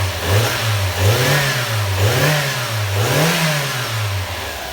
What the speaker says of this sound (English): All the engines back together now, and that was the first start up.